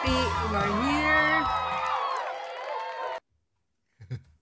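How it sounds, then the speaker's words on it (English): A studio crowd cheers and whoops in welcome for a show co-host, a loud burst with voices mixed in that cuts off abruptly, followed by a brief faint sound. "let's give a roaring welcome to my co-host, David Maldo."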